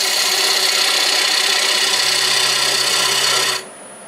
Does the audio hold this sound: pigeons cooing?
no